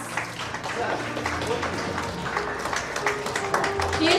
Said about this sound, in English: So please give him a round of applause so that he feels motivated to be here with us.